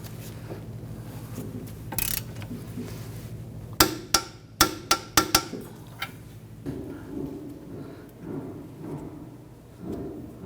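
A wrench torques a bolt to 87 foot-pounds while front control arms with ball joints are replaced on a 2011–2015 Kia Sorento. A quick series of sharp metallic clicks ratchets out over a low background hum, with a few scattered knocks.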